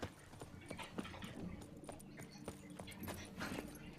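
Horse hooves clip-clop steadily at a walking pace in The Witcher 3, a regular rhythm of close, moderately loud hoofbeats over continuous ambient game sound, with no talk.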